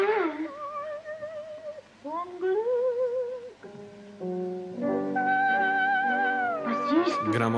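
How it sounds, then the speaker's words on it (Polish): A cat's drawn-out, wavering meows and caterwauls rise and fall in pitch, continuous and fairly close, in an indoor scene of a 1937 Polish film. "to jest kot"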